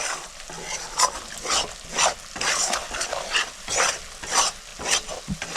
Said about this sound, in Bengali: মশলাটা ভালো করে কষাই নেব।